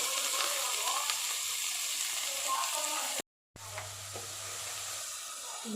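Capsicum and cabbage sizzle in an oiled pan for restaurant-style veg fried rice: a steady, close frying hiss that cuts out briefly, then resumes with a low hum beneath.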